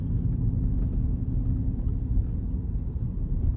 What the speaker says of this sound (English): The Jeep so far handles it like it's not even here. It's been going through snow like nothing.